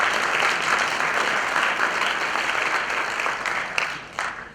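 Audience at a school scholarship night applauding the graduates, a dense round of clapping that stays steady, then thins out with a few last claps.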